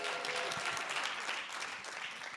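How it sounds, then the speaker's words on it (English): Audience applause for eight startup teams that just finished their pitches at a cohort demo day: dense, steady clapping from a crowd filling the whole moment, with no voices over it. "Another big round of applause for the 8 teams"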